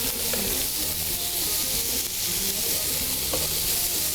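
Seekh kebabs sizzling and frying in a pan, a steady dense crackle with occasional stirring, close and continuous with no talk.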